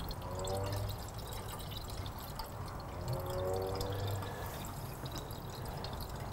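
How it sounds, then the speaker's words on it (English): Green Prestone 50/50 antifreeze pours steadily into the radiator of a 2004–2007 Honda CBR1000RR, a continuous close liquid trickle with soft gurgles and drips and no talking. "we're going to put green antifreeze back in."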